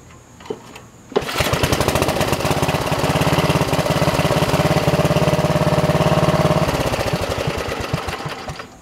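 A Snapper riding mower engine cranks and catches, then runs loud and steady with a rapid rumbling chug, easing slightly toward the end.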